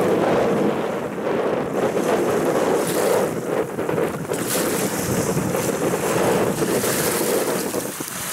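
Stormy sea waves heard while fishing in a storm: loud, continuous roaring surf with heavy wind buffeting the microphone, crashing water swelling and surging throughout, close and without speech.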